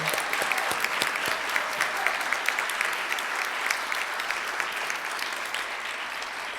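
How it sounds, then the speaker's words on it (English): An audience at a Rotary Club meeting honoring fire department awardees gives steady, sustained applause, many hands clapping together at moderate volume throughout. "Let's give the awardees another round of applause for the great job that they do."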